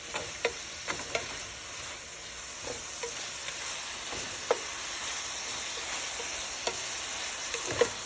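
Vegetables sautéing in a pan for Korean spicy tofu soup, a soft steady sizzle punctuated by sharp intermittent utensil taps and scrapes, alone and moderately close.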